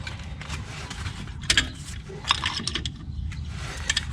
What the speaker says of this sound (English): take our C-clamp, clamp it on that brake pad and on the screw in the back for the brake line